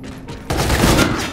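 Gunfire in a first-person shooter video game: a sudden loud burst of shots that cuts in about halfway and rumbles on to the end, heard alone with no talking.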